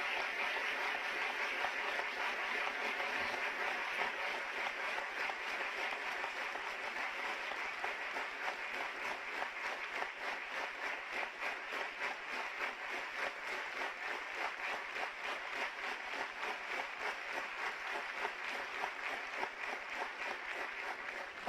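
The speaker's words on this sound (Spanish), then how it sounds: "pido un fuerte aplauso de felicitación y reconocimiento a los educadores cubanos" An audience at the closing session of Cuba's National Assembly applauds Cuban educators on their day, a steady, dense, distant-sounding wash of clapping that continues without a break.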